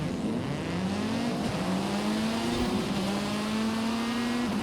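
Race cars in a night race in the Forza driving game, including a Ferrari F40 and a Testarossa, with a steady revving engine drone that climbs and holds in pitch, up close and continuous, with no voices.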